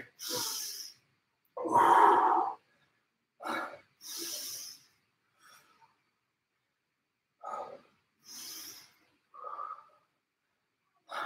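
During an exercise routine, a person breathes deeply in and out in separate loud, close breaths with long silent gaps between them: sharp inhales and hissing, sighing exhales.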